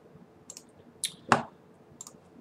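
A few sharp, quiet mouse clicks on a computer running SolidWorks, isolated single and double clicks spread across a couple of seconds over faint background hiss.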